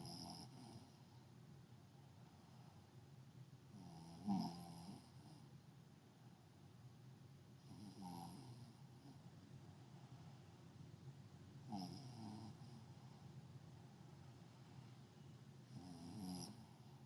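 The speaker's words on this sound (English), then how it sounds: "Sound like she's snoring" A person snores softly and far off, with faint, rhythmic breaths recurring about every four seconds against a low, quiet background.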